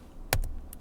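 Computer keyboard keys pressed together as a shortcut combination, one sharp close click followed by a couple of softer taps, short and quiet against a near-silent room.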